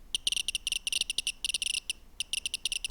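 Rapid, irregular clicking from a radiation counter measuring radioactive ore, with dense clusters of sharp ticks at a fairly low volume.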